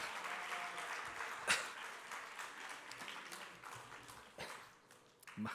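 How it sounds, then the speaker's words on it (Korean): Scattered clapping from a church congregation at a youth worship service carries on steadily for several seconds, moderately loud, with a sharper burst near the start and fading toward the end. "박수 하겠습니다."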